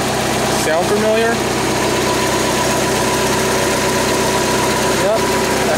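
An idling 1995 Toyota Corolla hums steadily up close with its radiator fan running, a constant broadband whir and engine drone with faint knocking throughout.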